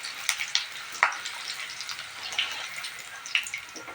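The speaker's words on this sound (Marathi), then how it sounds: "आता मी घेतली मिरची तळायला." Green chillies fry in hot oil, a close, crackling sizzle with frequent sharp pops and spits over a steady hiss, alone with no voices.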